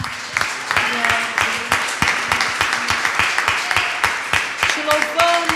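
A church congregation claps in steady rhythmic unison, loud and close, with voices calling out and singing over the applause throughout.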